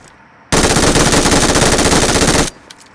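Continuous burst of MG3 machine gun fire in PUBG Mobile, a loud, very fast rattle of shots lasting about two seconds before cutting off abruptly to quiet.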